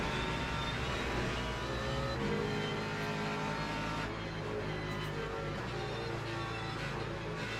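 An LMP3 prototype race car engine in the Le Mans Ultimate racing sim holds a continuous, buzzy high-revving drone over a dense noisy layer, with small shifts in pitch.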